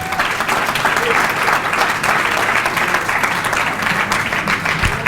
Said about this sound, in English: Let's give a round of applause to all of those.